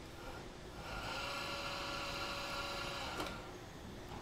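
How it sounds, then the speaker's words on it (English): A hern cutter machine at a straw hat factory runs steadily, trimming excess straw from hats with a continuous mechanical whir and a brief sharper burst near the end. "This is a hern cutter. Now this cuts off all the excess."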